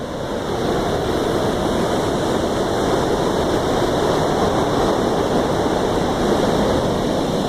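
A dense, unbroken roar of water spills over the canal feeder weir on the Manchester Bolton Bury Canal, loud and near, holding an even level throughout without any talking.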